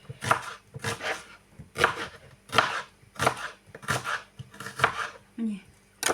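A knife slices a halved onion into thin half-rings, the crisp close board strikes coming in a steady run of about ten chops, with a brief softer rustle near the end.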